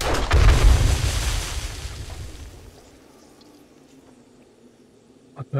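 A loud booming explosion in the video game 7 Days to Die bursts at the start and rumbles for about two seconds, then fades into quiet background noise, with a brief sharp knock at the end.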